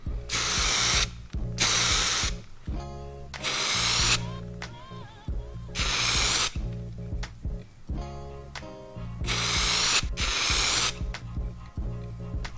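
Aerosol paint sprayed as a wet coat onto a car's rock chip in repeated bursts, each about a second long, loud and close, with short pauses between them.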